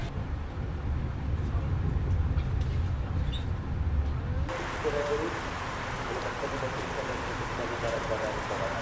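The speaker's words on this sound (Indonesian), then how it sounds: "Sayang banget cuaca di sini lagi hujan deras ya." Heavy rain pours steadily at the Sumpiyuh train station platform at night, a dense broadband hiss that swells louder partway through, with a low rumble underneath.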